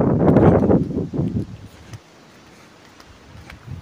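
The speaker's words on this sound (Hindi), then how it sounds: "हवा बहुत चल रही है" Strong wind gusting outdoors, a loud close rushing blast over the microphone for about two seconds before easing into a faint, steady hiss.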